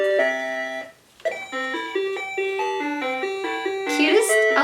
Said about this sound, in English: Cutest alarm clock ever